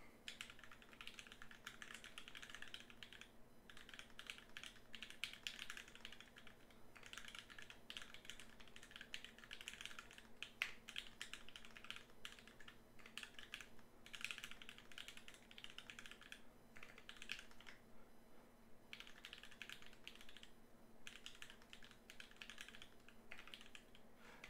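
Rapid clacking of keys on a mechanical keyboard, an acrylic Alice-layout build, comes in close, busy bursts with brief pauses between runs of typing.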